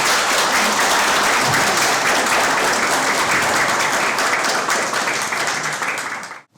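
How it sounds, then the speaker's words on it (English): Sustained audience applause for a panel of filmmakers at a literary event, a dense, loud wash of many clapping hands that holds steady for several seconds before tapering off abruptly at the end. "Can we have a round of applause for all our filmmakers first?"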